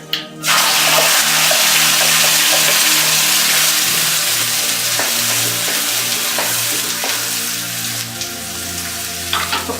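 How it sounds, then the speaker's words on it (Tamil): Mustard seeds and asafoetida fry in hot oil for a chayote chutney, a loud, continuous close sizzle with small scattered pops from the seeds. "இப்போ கடுகு வெடிச்சிச்சு."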